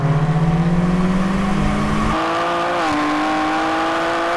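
A BMW XM Label Red and a BMW M4 CSL accelerate hard in a half-mile drag race, a loud close engine roar climbing in pitch, then dropping sharply at a gearshift before climbing again.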